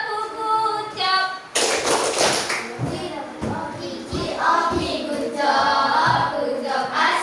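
Children in an Indonesian classroom break into a burst of rhythmic patterned clapping after a teacher's speech, with voices talking before and between the claps.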